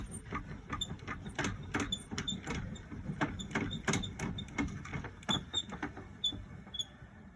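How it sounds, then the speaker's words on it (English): Touring caravan corner steadies being wound down, a steady run of ratcheting mechanical clicks and creaks close by, repeating in uneven bursts with no talk. "before you let anybody in the caravan, you get these steadies down."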